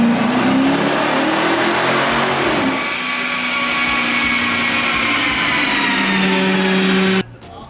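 A street car engine revs hard on dyno rollers, a loud continuous roar that holds at high pitch, sweeps gradually upward, then cuts off abruptly just before the end.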